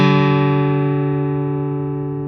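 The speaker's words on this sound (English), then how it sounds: "Listen for that beating to stop." Two guitar strings ringing together slightly out of tune, a single sustained plucked chord slowly decaying over a couple of seconds with a faint wavering beat, alone and close.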